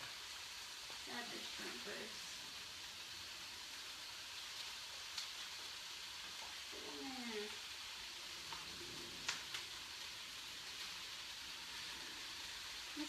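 Shrimp and garlic fry in a pan for a toasted rice bowl, giving a steady, soft sizzle throughout with occasional louder pops and light stirring, while a person talks faintly over it.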